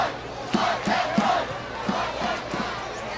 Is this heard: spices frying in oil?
no